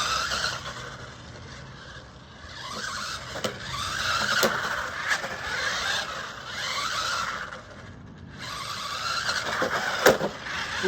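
Small brushless RC car driving and jumping around, whirring and squealing in bursts that rise and fall, with sharp knocks from landings, moderately close and without talk.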